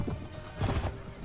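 Horse hooves clip-clopping in a galloping rhythm in the Mount and Blade Warband game, fairly close and moderately loud, with a brief whinny amid the footfalls.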